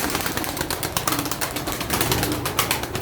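A pair of tumbler pigeons, a freshly hatched female and a blue male, make dense fluttering and scuffling sounds close by, with rapid clicking bursts throughout and no voices.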